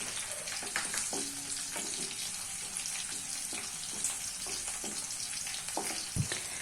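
Garlic and a cut green chilli fry in a pan with a soft, continuous sizzle, broken by occasional light scrapes and clicks of a stirring spoon. The whole scene is fairly quiet.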